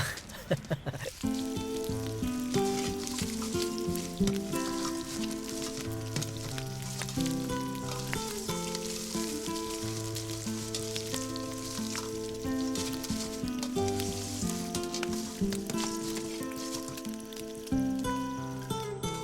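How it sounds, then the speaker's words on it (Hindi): Cauliflower frying in a pan makes a steady, moderate sizzle and crackle that continues throughout, partly masked by prominent melodic music playing over it. "कॉलीफ्लावर है, मैं उसे ही फ्राई कर रहा हूँ।"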